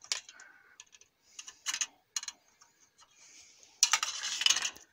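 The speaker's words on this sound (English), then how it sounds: "you want to cut them off with your sprue cutter if you have one" A sprue cutter snips plastic model kit parts for a 1966 GTO off the tree, giving several sharp clicks and snaps, followed by a louder burst of close handling noise.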